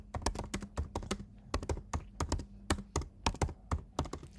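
Computer keyboard typing in quick uneven bursts of crisp clacking keystrokes, close and clear in a quiet room, no voices.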